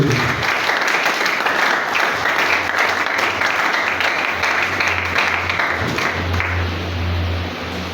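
A church congregation bursts into sustained, dense applause that fills the room loudly for several seconds before easing slightly, a steady wash of many hands clapping together.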